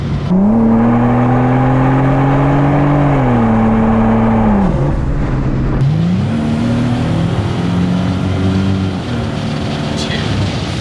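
A Pontiac Fiero, 400HP with a Pontiac GTP engine swap, revs up and holds a rising, steady drone, dips as it shifts, then pulls again with a lower growl; loud and close.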